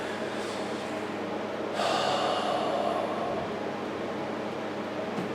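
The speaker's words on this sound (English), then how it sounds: "force the exhalations" A forceful breath pushed out through the mouth during a breathing exercise by someone with lung damage: a steady airy rush under faint background noise swells into a louder, harsher exhale lasting about a second and a half, then eases off.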